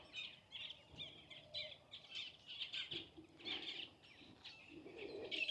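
Birds call and chirp near their nests in trees, a repeated series of high, short notes and soft coos at moderate distance over quiet outdoor background.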